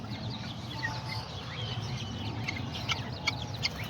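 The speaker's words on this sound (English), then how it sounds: "I had put my all my little girito roosters" Small short-legged girito roosters and hens clucking faintly and intermittently in a farmyard, with sparse soft calls and brief higher chirps scattered over low background noise.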